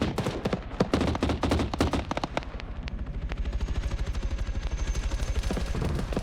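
Rapid bursts of gunfire crackle through a multiplayer war game, dense and rattling at first, then thinning into a steadier string of quieter shots with no talk over them.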